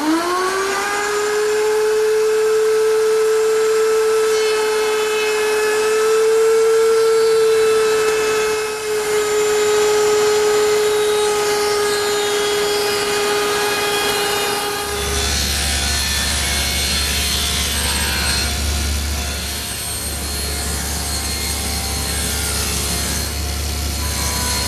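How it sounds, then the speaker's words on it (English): Router table fitted with a 1/4 inch round-over bit, with feather boards holding a 3/4 inch square strip of wood. It gives a loud, steady high whine for about fifteen seconds, then a rougher, broadband cutting roar as the stock feeds through. "I've set up my router table with a 1/4 inch rounding over bit and a couple feather boards to hold the stock in place"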